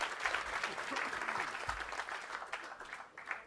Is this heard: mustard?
no